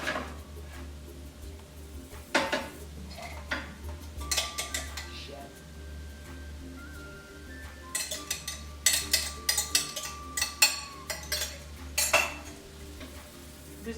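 Teak wood paddles stir fried rice in a pan, making irregular knocks and scrapes that come in scattered clusters over a low background hum, fairly faint overall.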